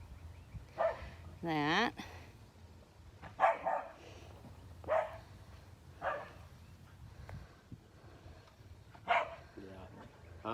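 A dog barks outdoors among trees in several short bursts spread through the clip, while a person talks nearby over it.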